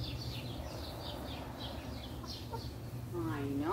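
A chicken clucks faintly in short repeated calls over a low background hum, with a brief higher squawk near the end.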